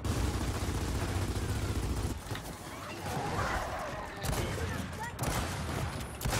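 Lancer rifle gunfire in a Gears of War 4 multiplayer match: a sustained, rapid rattle of automatic shots for about two seconds, then scattered bursts over a busy game background.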